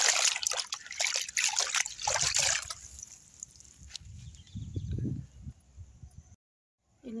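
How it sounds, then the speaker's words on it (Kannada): Leafy greens, rajgira and coriander bunches caked with mud, rinsed one bunch at a time in a bucket of water, giving close trickling, dripping and sloshing splashes in uneven bursts before a brief silence. "ಬಕೆಟ್ ಒಳಗೆ ನೀರು ಹಾಕಿ ಈ ಥರ ಒಂದೊಂದು ಸೂಡ ತೊಳಿಲಾಕ್ತೀನಿ ನೋಡಿ."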